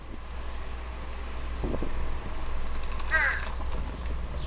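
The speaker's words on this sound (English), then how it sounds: "You can hear typical fish crow calls in the background." A fish crow gives a short nasal caw over a steady low wind rumble at a birdbath, one brief call rising out of the constant background noise.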